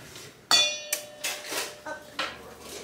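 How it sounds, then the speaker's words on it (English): A spatula scrapes softened butter off a plate in a home kitchen, giving several sharp clinks and scrapes of utensil on ceramic, close and irregular, with one ringing metallic hit early on. "Come on. I'm just going to scrape that off."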